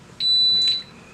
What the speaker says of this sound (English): Okay, my thing beeping again.